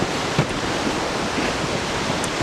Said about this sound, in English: the river is lovely, but we have to cross it